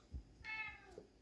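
A cat gives a single short, fairly close meow with a bent, falling pitch, heard over quiet room tone indoors without any talking.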